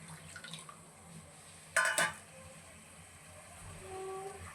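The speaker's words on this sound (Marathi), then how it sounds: "आता थोडंसं अजून पाणी आपण ॲड करणार आहोत।" Water poured from a vessel into a simmering mackerel curry makes a short splashing gush lasting about half a second, close by over a quiet background hum.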